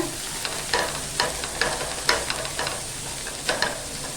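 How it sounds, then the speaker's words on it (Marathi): Pea kachori filling is stirred in a hot pan, with a low frying hiss under repeated spatula scrapes that come in an uneven rhythm about every half second. "सर्व मिश्रण आहे ना व्यवस्थित असं मिक्स करून घेऊया"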